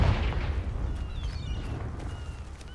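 Confringo fire-blast spell from Hogwarts Legacy going off as a heavy, rumbling explosion with a strong low boom at the start that slowly fades out, alone with no talk.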